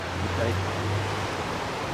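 Rushing whitewater on a long class 2 river rapid, a steady broadband roar close by, with faint low rumble underneath and no speech.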